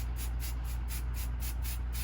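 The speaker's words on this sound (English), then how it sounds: "I've come outside to spray base this because I don't want anything near the machine" Temporary spray baste adhesive sprayed from an aerosol can onto a fabric piece outdoors, heard as a series of about eight short, evenly spaced hissing bursts over a steady low background hum.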